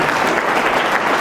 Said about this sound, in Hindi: एक बार कलाम साहब के लिए जोरदार तालियां।